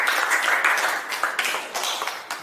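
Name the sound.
classroom applause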